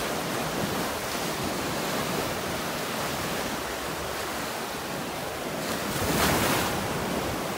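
Ocean waves breaking on a beach in North Naples, Florida make a steady, loud wash of surf with continuous roar, a slight swell near the end, and some wind buffeting the microphone.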